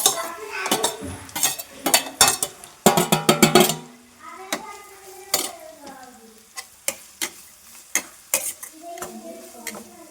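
Grated carrot fries in a pan with a soft sizzle while a metal spoon stirs, making sharp, irregular clanks and scrapes against the pan, with a dense burst of clatter early on.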